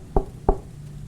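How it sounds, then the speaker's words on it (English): Two quiet, close knocks land on a front door about a third of a second apart, dull and low, followed by a soft room hush. "The first knock came so quietly I almost missed it."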